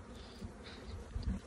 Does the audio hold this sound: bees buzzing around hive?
yes